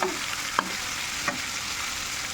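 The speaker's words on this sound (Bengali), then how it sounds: "দেখো এদিকে মাছ ভাজা হচ্ছে" Steady, close hiss of fish frying in hot oil, with two brief scraping taps from a utensil against the pan.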